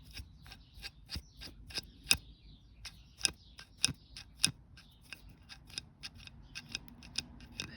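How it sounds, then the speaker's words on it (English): A jammed wrench mechanism clicking repeatedly as it catches against a sticking point, a string of sharp, close, irregular ticks and snaps over quiet background. "there is one point where it jams. There, see? Sort of clicks up against it."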